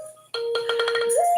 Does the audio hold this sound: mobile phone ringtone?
yes